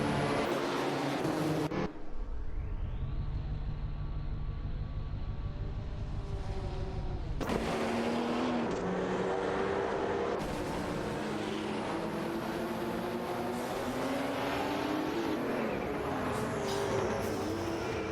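Racing cars pushed to the limit during a race roar steadily, their engine notes sweeping up and down in pitch as they accelerate and shift, with one abrupt change partway through and no talking.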